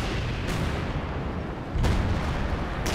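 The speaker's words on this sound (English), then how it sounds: "some base artillery coming in now" Base artillery falling in Company of Heroes 2: two or three heavy distant booms land a second or so apart over a constant rumbling battlefield din.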